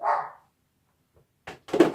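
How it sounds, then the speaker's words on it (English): A dog barks a few times, one bark, a pause, then a short burst of two more, fairly close and loud with quiet in between. "Oh, the dog barking again."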